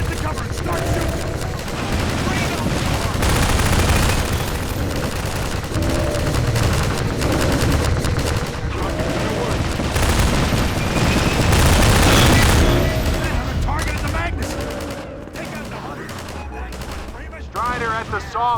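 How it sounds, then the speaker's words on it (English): Sustained gunfire in a Half-Life 2: Episode Two sawmill battle against a Strider, with dense, loud bursts of shots and booms over continuous game noise and occasional voices mixed in. "Get the cover and start shooting!"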